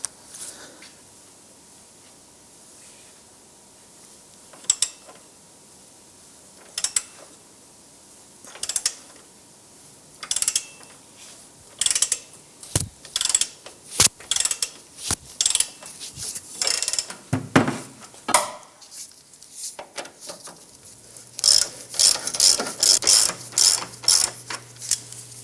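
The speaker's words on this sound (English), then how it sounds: "Using a 21mm socket and ratchet on this lower bolt, I'm going to go ahead and loosen this one." A 21mm socket on a ratchet loosens the lower control arm bolt of a 2001-2007 Ford Escape, giving repeated bursts of sharp ratcheting clicks with brief metallic creaks and pauses between strokes, growing denser toward the end.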